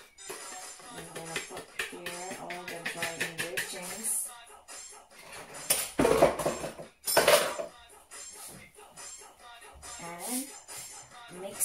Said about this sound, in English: Mix well. You need to mix them well.